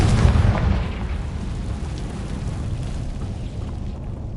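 A Confringo blasting curse in Hogwarts Legacy erupts with a loud, deep boom up front, then settles into a long rumbling roar that slowly fades.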